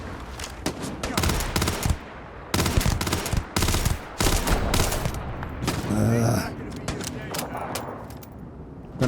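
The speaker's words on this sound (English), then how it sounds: "This fucking gun." Loud bursts of automatic gunfire from a gun in Starfield, several rapid volleys with short pauses between them, with a voice speaking briefly over the shooting.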